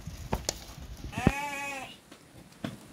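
A goat bleats once in a loud, drawn-out, wavering cry amid a herd of goats and a buck offered for sale in Alagoas, Brazil, with scattered clicks and rustling around it and no talk.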